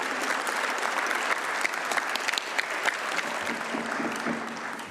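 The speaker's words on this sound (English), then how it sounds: "Et je vous demande de les applaudir" Delegates at a congress closing ceremony applaud the Italian national committee, a full, sustained round of clapping from a large hall audience, steady and fairly loud, easing slightly near the end with no speech.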